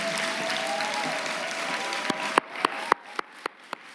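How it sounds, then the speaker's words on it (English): An audience at a journalism convention's opening ceremony applauds performers from Karamu House, steady massed clapping that thins out into a few loud, isolated claps spaced apart near the end. "Please give a round of applause this evening for the amazing performers from Karamu House"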